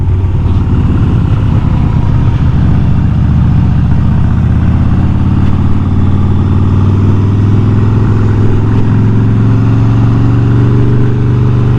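A Harley-Davidson cruiser motorcycle ridden on the road, its engine a loud, continuous low rumble with a steady throb that slowly rises in pitch as the bike accelerates, with no talk over it.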